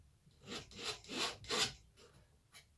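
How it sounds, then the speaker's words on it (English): Palette knife dragged across wet acrylic paint on canvas while painting a seascape, four rhythmic scraping strokes followed by two lighter ones, close and quiet. "by scraping it away while it's still wet, I can actually expose the weave of the canvas"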